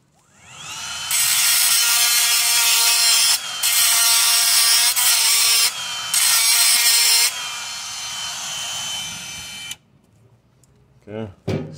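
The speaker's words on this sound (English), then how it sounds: "here you have to remove the front drive shaft screws" A ratchet wrench with a 7/16-inch socket loosens the front drive shaft bolts on a Chevy Tahoe during oil pan removal, giving loud, continuous clicking bursts separated by short pauses, ending in a few knocks.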